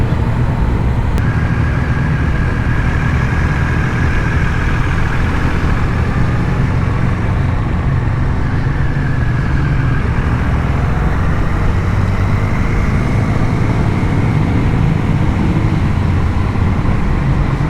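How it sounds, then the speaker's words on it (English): A 2002 Triumph Speed Triple 955i motorcycle rides through Austrian mountains, its engine a steady, loud low drone mixed with wind rush, with a faint rising whine weaving through the whole ride. "It is a nice bike, my dad's. The Triumph Speed Triple 955i. It is from 2002."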